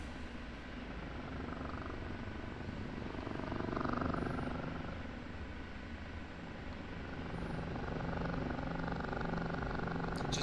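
An OH-58D Kiowa Warrior helicopter in the DCS flight simulator settles toward a runway landing, its steady rotor and turbine drone running continuously at a moderate level with slight swells and no talk.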